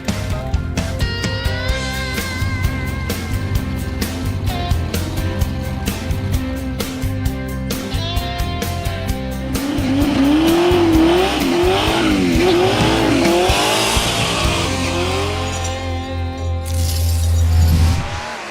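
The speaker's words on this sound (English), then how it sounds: "it's time for Mike Finnegan to come up, makes his first attempt here at ACTO Dragway" Drag racing car at ACTO Dragway during Hot Rod Drag Week, its loud engine revving and roaring in a rising launch, with tire squeal and skidding, then a sustained blast near the end.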